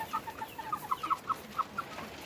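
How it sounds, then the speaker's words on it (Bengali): Chickens cluck close by in a quick run of short, soft notes over a quiet, hissy background. "এই যে মুরগিগুলো কাছে চলে আসছে"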